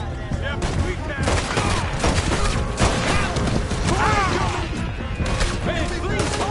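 Dense, rapid gunfire from a Red Dead Redemption 2 shootout, with overlapping shots, impacts and clatter running steadily throughout, while voices shout over the fighting.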